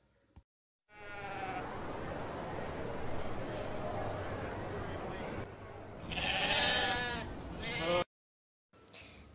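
Sheep bleat in long, wavering calls, one drawn-out bleat followed by a louder, higher one, with faint buzzing like flies and short silent gaps between.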